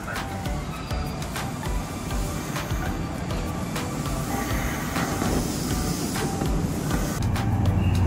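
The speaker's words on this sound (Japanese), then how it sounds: "乗車する電車が来ました。" A Kintetsu local train pulls in at underground Nagoya station after coming from Komeno, with a steady broadband rumble that slowly builds in loudness toward the end, and no talk over it.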